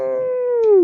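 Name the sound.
voice imitating a coyote howling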